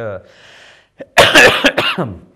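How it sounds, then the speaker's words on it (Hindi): A single harsh cough breaks out after a brief breath, followed by a burst of rough throat-clearing, close and loud. "सॉरी आज खांसी बहुत ज़्यादा हो रही है"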